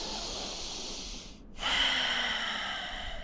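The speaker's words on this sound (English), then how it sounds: "Two more breaths." Deep, slow breathing during a guided breathwork exercise, a long airy inhale swelling after a brief pause, close and steady, with no talking.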